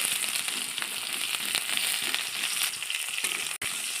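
Dried red chili and a little onion frying in hot oil in a wok, a loud continuous sizzle and crackle close up, with a brief clatter near the end.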